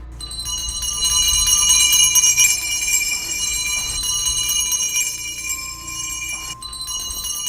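Many bells ring together in a dense, shimmering jangle that sustains throughout, loud and continuous with no voices.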